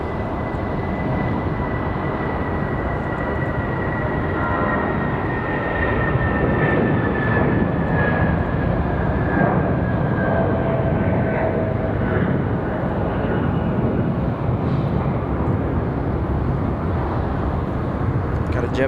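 An Airbus A330 jet departing Raleigh-Durham International Airport, a steady loud engine roar with a slowly falling whine across the whole stretch, heard at a distance with a voice talking over it.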